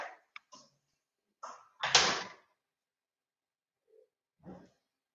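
An indoor door opening with a few sharp clicks and a louder thump-like scrape in the middle, separated by silence, with a faint knock near the end.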